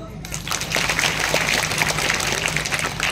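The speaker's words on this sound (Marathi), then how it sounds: "आता टाळी वाजवा जोरात." Loud, sustained applause from a large devotional gathering, a dense crowd clapping steadily for about three seconds with no pause.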